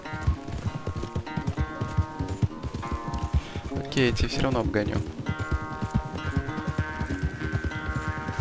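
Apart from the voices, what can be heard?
horse galloping in a race, Red Dead Redemption 2 video game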